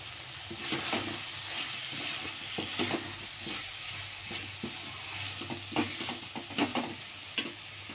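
Slit green chillies fry in a pan for sago khichdi, a quiet steady sizzle marked by a series of sharp scraping and tapping stirs that grow more frequent toward the end, with no talking.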